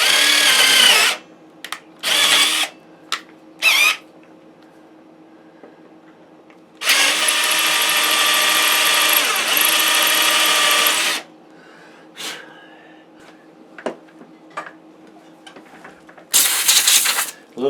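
Power drill with a 3/16 bit boring through a guitar body: several short whirring bursts, then a long steady drilling run of about four seconds, followed by quiet handling clicks and a final short burst.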